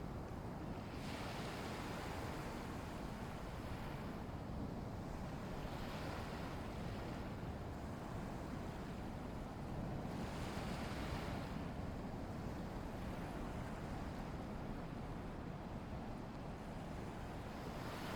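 Gentle waves wash in slow, steady swells, a soft continuous rush of water with faint wind, no voices.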